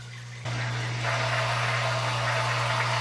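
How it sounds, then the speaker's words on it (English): An aquarium sump pump under an overflow box runs dry, a steady close hum with a loud, continuous rushing, gurgling hiss of air and water that surges in after a brief quieter start. "You see the noise of the pump, it's running dry"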